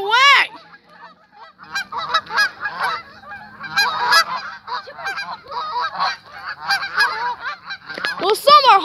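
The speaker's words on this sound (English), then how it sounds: "some are honking to warn others' danger of dogs" Flock of geese honking repeatedly in alarm at a nearby dog, loud and overlapping calls in a continuous chorus, with some birds taking flight.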